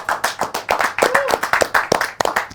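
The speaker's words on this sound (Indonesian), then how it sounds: "boleh tepuk tangan dulu dong guys" An audience claps at a talk show taping, a fairly small group producing distinct, uneven hand claps that stay close and moderately loud, with a brief vocal sound in the middle.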